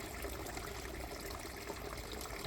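Water runs steadily into the upper pool of a garden water feature, a continuous close trickling and gushing flow with no voices over it.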